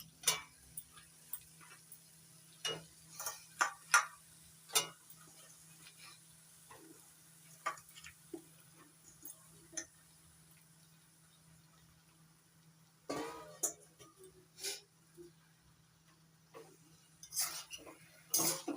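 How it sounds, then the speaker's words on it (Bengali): Cut water lily stems being stirred into spice mix in a pan, with sparse, quiet clicks and scrapes of a utensil against the pan, irregular and close, with a soft sizzle and long near-silent gaps. "এখন কেটে নেওয়া শাপলাগুলো এই মশলার মধ্যে দিয়ে নাড়াচাড়া করে নিই"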